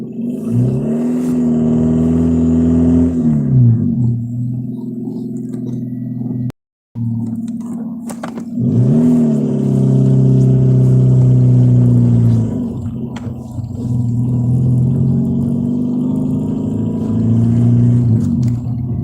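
A car drives back and forth between two parking lots, its engine rising and falling through several loud revving accelerations close by, with a brief gap of silence partway through.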